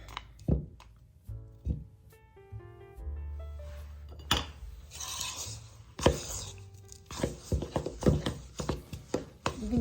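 A spoon mixes a leftover candy mixture in a bowl, giving a series of close knocks, thuds and scrapes that come faster and denser toward the end, with no talking.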